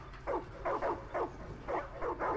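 A dog in the video game Far Cry 5 gives six short, rhythmic barks at moderate distance, evenly spaced over a low background hum, with no speech over them.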